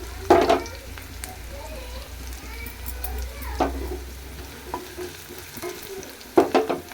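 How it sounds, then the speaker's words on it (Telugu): Dry chillies roasting in a pan, with a steady low crackle and scraping stirs, brief louder clatters near the start and end. "మిరపకాయలకు ఘాటు పెట్టాను అన్నమాట"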